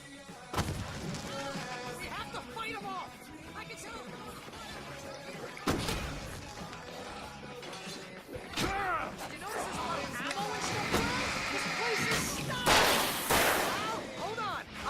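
Gunfire in the video game Alan Wake, with sharp shots and heavy booms scattered through a tense scene, mixed with voices shouting and talking, and a dense noisy burst toward the end.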